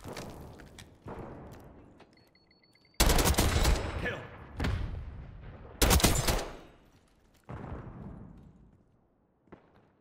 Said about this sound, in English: he's shooting Noob Tube back at me.